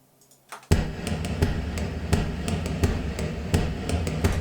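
Tom-like drum hits made by striking a plastic wine fermenter bucket full of fermenting wine, a run of roughly a dozen booming thumps in an uneven rhythm, some with sharper slaps, close and fairly loud with a quiet rustle at the start.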